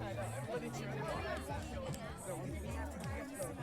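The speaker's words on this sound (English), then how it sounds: "Once again, a great crowd on hand here at the 2021 Evanston Invite." A crowd of spectators at the 2021 Evanston Invite cross country race, a dense murmur of many overlapping voices chattering steadily throughout, moderately close and unbroken.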